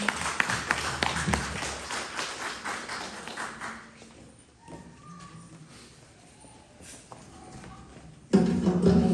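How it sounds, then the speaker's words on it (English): A small audience at a Good Friday service claps for several seconds, loud at first and then thinning to scattered claps before a voice starts up nearby. "Please give a round of applause to Suhas."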